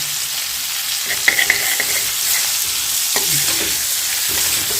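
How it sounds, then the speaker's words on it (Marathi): Fresh coriander fries in hot oil in a pan with roasted stuffed eggplant over a low flame, giving a constant close sizzle. A few clinks and scrapes of stirring break through the hiss, and no one speaks. "कोथिंबीर घाला तेलातच जरा कोथिंबीर ना असं भाजून घ्यायचं"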